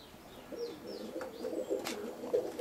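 Young roller pigeons coo softly in a repeated low rhythm close by, with a few faint chirps from other birds and light rustling behind them.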